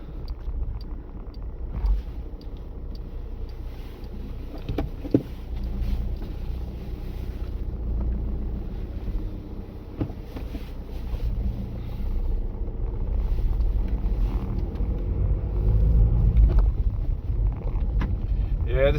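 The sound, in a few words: VW Golf 1.6 diesel car driving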